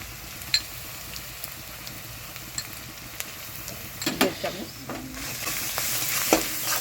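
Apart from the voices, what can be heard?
garlic paste frying and sizzling in oil with onions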